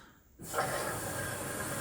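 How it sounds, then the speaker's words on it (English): An LG WM4000HWA front load washer starts a spray rinse, water abruptly bursting into a loud, steady hissing spray that continues without a break. "Already doing the bleach for the spray rinse?"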